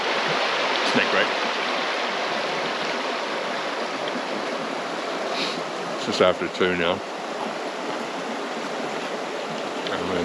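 A river in the Kaimanawa backcountry rushes steadily nearby, a broad continuous wash of flowing water that dominates throughout, with a brief spoken remark near the start and a few knocks and scrapes partway through.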